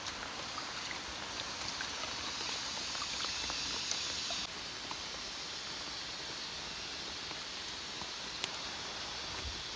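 Steady rain falls through the night over a forest, a dense, even hiss of drops with no pauses, moderately loud and close, with no voices.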